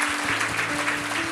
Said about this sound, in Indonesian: Kita kasih tepuk tangan untuk mereka, welcome home.